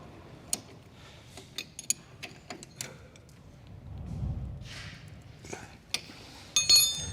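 A 19 mm wrench tightens a hose fitting on a Bright Beta series car lift during installation, giving scattered sharp metallic clinks and ticks at close range, with brief rustling in between and no talking.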